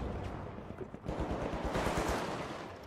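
Rapid gunfire from the video game The Finals, a dense burst of close shots that keeps going for a few seconds without talk.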